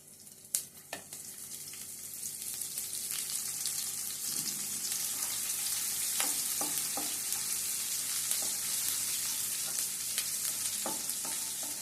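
Urad dal, chana dal and mustard seeds frying in hot oil for a carrot-beetroot fry: a steady, close sizzle with scattered sharp pops and crackles, plus a few soft clinks of stirring.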